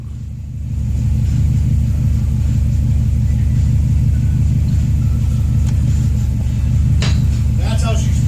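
A Subaru WRX engine idles right after starting, a steady, close, deep rumble that settles in after a short rise and runs evenly to the end, with brief faint sounds on top.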